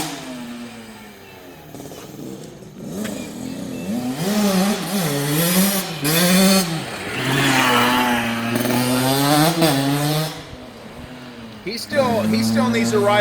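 A Kawasaki KX 450F four-stroke dirt bike engine revs while being ridden, rising and falling through repeated throttle sweeps, loud and close, with brief pauses before it picks up again.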